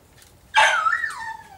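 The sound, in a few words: dog barking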